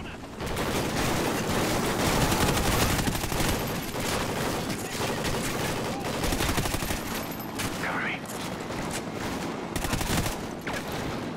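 Dense, continuous gunfire from the Call of Duty Ghosts campaign, sustained bursts and fusillades of rifle and machine-gun fire filling the scene, loud and unbroken, with faint voices under the shooting.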